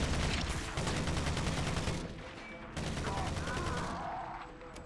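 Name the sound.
pulse rifle firing in video game Halo CE XAM mod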